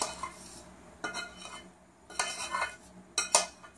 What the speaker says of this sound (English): I'm going to add the bacon, mushroom, and garlic mixture to the cheese